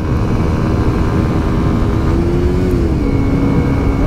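A 2020 Kawasaki Ninja 125 motorcycle pulls out to overtake, its small engine droning loud and steady from the rider's position, with the pitch climbing then settling, over heavy wind rush.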